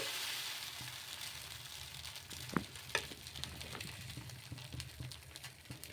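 Coconut dosa batter sizzles steadily on a hot pan as it is spread, a soft continuous frying hiss with a couple of sharp scraping ticks from the ladle partway through.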